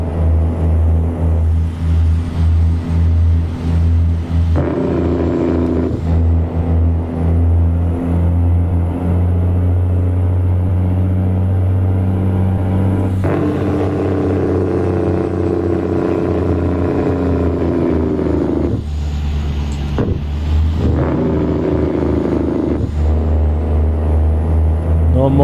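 Kenworth T800 truck in American Truck Simulator, a steady low diesel engine drone with harmonic rumble and occasional shifts in pitch, loud and continuous throughout, with voices talking over it at times.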